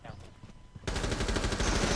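Gunfire in Rainbow Six Siege starts with scattered faint shots and soft thuds, then a loud sustained burst of rapid automatic fire. It carries on without pause to the end.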